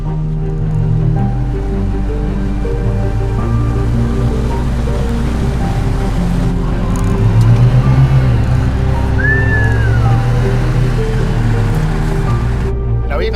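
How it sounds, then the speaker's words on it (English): A Mazda CX-90 SUV with an inline-six engine accelerates through its gears, its engine note stepping through several shifts under heavy, steady road and wind noise in the cabin. "this car is just leaping through the gears nice and easily"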